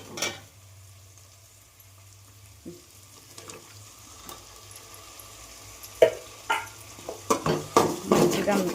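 A spoon stirs ground fresh coconut masala into a stuffed brinjal curry in a pan, starting quiet with a low hiss, then clinking and scraping against the metal in quickening strokes toward the end.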